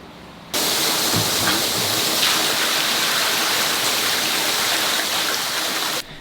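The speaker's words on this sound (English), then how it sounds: "to this hose right here to pump the water into the pool pond" Water pumped through a hose pours into an outdoor pool pond, a loud steady rushing splash that starts abruptly and runs unbroken for several seconds, with no voices.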